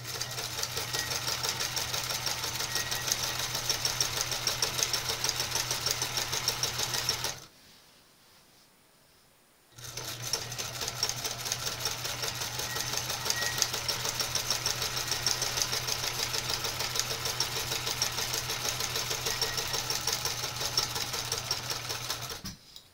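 A sewing machine stitches a cosplay hood in a long, steady, close mechanical whir with a fast rhythmic needle beat, pausing briefly near the middle before running on.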